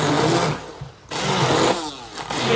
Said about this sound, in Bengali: একটু ঠান্ডা করে ব্লেন্ড করে নিব।